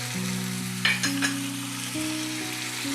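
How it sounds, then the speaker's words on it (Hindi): Chicken frying in garlic ginger paste gives a steady, close sizzle over a constant low tonal hum, with a few brief scraping clicks near the start. "मैं लहसुन अदरक के पेस्ट में इसको फ्राई करूँगी चिकन को"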